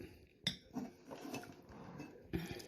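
Quiet clinks and scrapes of a utensil mixing hot 2-minute noodles with rice, pumpkin, sausage, carrots and tomatoes, with a few sharper taps against the pan among softer stirring.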